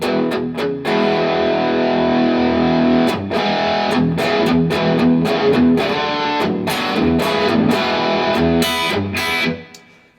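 A heavily distorted electric guitar played through a KHDK No. 1 overdrive pedal plays loud chords and riffs with sharp attacks, sustained throughout before fading at the end.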